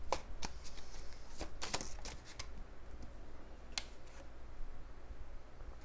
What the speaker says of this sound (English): I'm going to draw a few more cards.